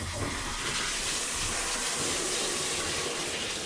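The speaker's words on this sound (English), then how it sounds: "Crank it up to the hot water." Hot water gushes steadily from a tap into a sink or tray, a loud continuous rushing hiss close by with no talk.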